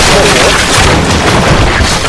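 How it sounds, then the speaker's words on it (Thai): Grenade explosion bringing down a building in the video game Medal of Honor Warfighter, a loud, saturated rumbling boom that fills the whole moment and barely changes. "เอาขวานออกโยนระเบิดไปลูกเดียวตึกถล่มกันเลยทีเดียวเชียว"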